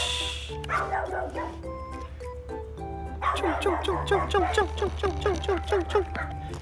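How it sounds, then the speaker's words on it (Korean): Several dogs bark and yip in quick repeated bursts, with some whimpering, fairly close and steady over a low background hum. "안나는 이제 그 강아지들 신경도 안 쓰네요"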